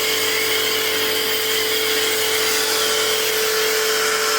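A Homdox 2.3 GPM electric pressure washer keeps running as it pulls soap through its dispenser. The motor whines loud and steady under a constant broadband hiss, with no pauses.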